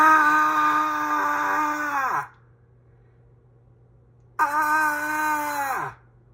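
A voice imitates a person screaming, giving two long, loud sustained wails separated by a silent pause of about two seconds.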